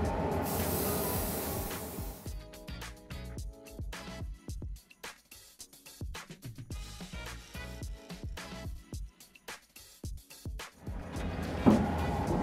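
Airbrush spraying metallic paint onto an RC car body, a loud steady hiss at the start, then broken into many short sputtering bursts and pauses, close and alone with no talking.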